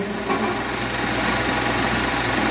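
Allis-Chalmers WD45 three-plow tractor with its Power Crater engine running, a steady loud mechanical chug and rattle with an even knocking rhythm and no speech.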